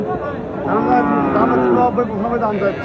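A cow with eight teeth, standing with her calf at the Dakumara cattle market, gives a loud, drawn-out moo close by that lasts about two seconds, with voices audible around it.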